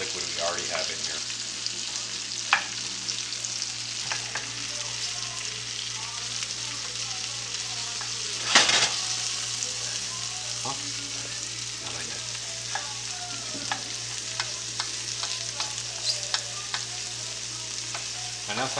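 Zucchini and mushrooms sizzle steadily in a pan under a continuous frying hiss, with intermittent scrapes and clacks of stirring and one sharper clatter partway through.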